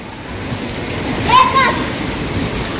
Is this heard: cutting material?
no